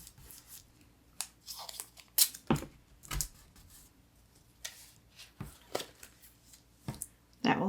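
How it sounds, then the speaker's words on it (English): Short crinkling, tearing and rubbing noises of tape being pulled off and pressed onto the back of a stencil for decorating a jar, arriving as quiet, close, intermittent bursts with silent gaps between them. "I'm just going to use a little tape on the back."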